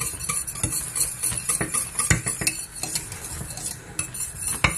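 A béchamel sauce bubbling in a pot while a utensil stirs it, producing continuous close scraping and clinks over a soft simmering hiss, with no talking.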